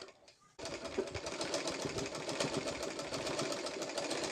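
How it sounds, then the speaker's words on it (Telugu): A sewing machine runs steadily while stitching a petticoat cut from a saree, its rapid even whirr starting abruptly after a brief quiet moment and continuing close and loud. "మళ్ళీ ఇటు తిప్పేసి ఇటు సైడ్ సగం నుంచి కుట్టు వేసేసుకుంటూ రావాలి"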